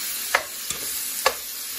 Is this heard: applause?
no